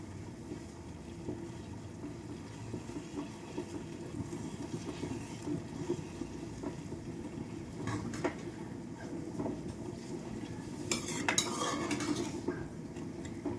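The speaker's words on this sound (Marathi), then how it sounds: "ते एकदा हलवून घेऊया" Carrot halwa stirred in a pan, a continuous low scraping and shuffling with occasional light metallic clinks of the spoon, growing busier toward the end, no talking.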